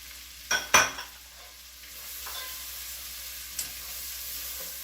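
Tablespoon of garlic stirred in a pot for a chicken stew, giving a soft steady sizzle with a couple of sharp scraping clicks near the start and a faint spoon knock later.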